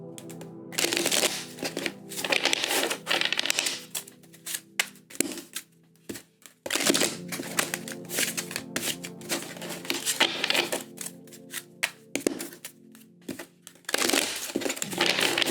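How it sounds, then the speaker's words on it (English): Tarot cards shuffled three times for a love reading, giving long stretches of dense riffling and crisp card slaps broken by brief gaps, close and steady with no talking. "Pretty sure that was 3 shuffles."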